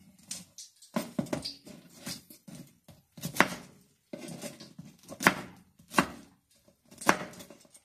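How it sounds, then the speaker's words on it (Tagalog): A knife chops through crunchy fried tofu on a board for tofu sisig, giving a run of close, crisp cuts in uneven bursts with short pauses between them. "Ngayon yung hiwa natin."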